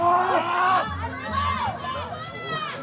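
Spectators at a strongman competition shout and cheer together, urging an athlete for another rep, a loud, excited crowd roar with overlapping voices close by.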